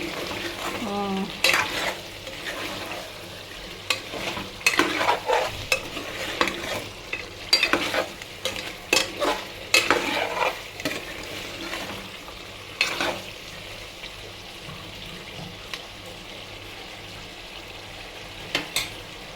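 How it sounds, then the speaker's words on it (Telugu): Coconut chicken curry sizzles in a pan while a spoon stirs it in repeated scraping bursts, the bubbling and frying steady underneath, with no talking. "చూడండి ఇంత బాగా అనేది ఉడుకుతుందో కదా."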